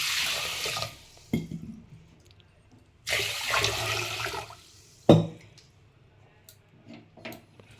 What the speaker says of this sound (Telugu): ఫస్ట్ ఉల్వలని బాగా కడిగి క్లీన్ చేసి మనం ఉడకబెట్టుకోవాలి